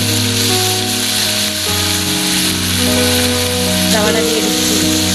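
Soya chunks, potatoes and peas frying in hot oil for a vegetable biryani, a loud continuous sizzle close up, with occasional stirring scrapes and a steady cooking hum underneath.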